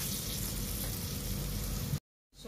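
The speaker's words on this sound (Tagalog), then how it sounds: "Kumukulo na asin, kumukulo na siya." Salted water boiling hard in a pot while cooking chicken feet adobo, a steady dense bubbling roar that runs close and loud for two seconds, then cuts out briefly before resuming.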